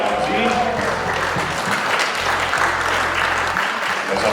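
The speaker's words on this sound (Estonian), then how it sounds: "Kas aplaus meelitab Maia välja kuskilt koopast?" Audience applause at a seniors' festival in Võru County, Estonia in 2021: steady, dense clapping from a sizeable crowd throughout, with a low hum and faint voices underneath.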